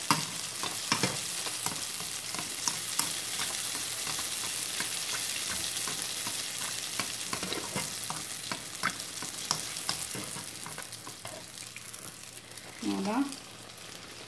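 Algerian beignets (sfenj) frying in hot oil that is spooned over them, giving a continuous bubbling sizzle with frequent spoon clicks and scrapes; a voice speaks briefly near the end.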